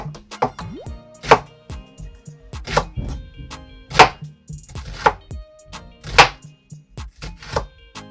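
Onion and pepper are chopped on a wooden board with a knife, about a dozen sharp, close thuds in an uneven rhythm with quiet gaps between strokes.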